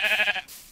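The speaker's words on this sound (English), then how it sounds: "Oh yes, there's sheep." A single short sheep bleat from the Minecraft video game, loud and clean with no talking.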